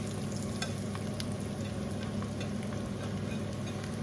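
Mushrooms sizzle and fry in a pan with a dense, steady hiss and scattered small crackles, loud and close, with no talking over it.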